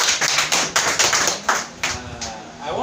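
A small audience claps at a question-and-answer session on domestic violence, producing a short burst of close, fairly loud hand claps in a steady patter with some thuds.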